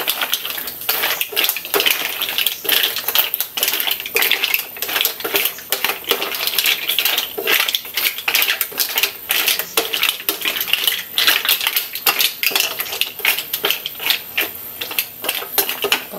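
A mussel dish is stirred in a pot with oyster sauce, lemon and pechay, giving repeated clinking and scraping of a utensil against the pot alongside wet sloshing, close up and steady throughout.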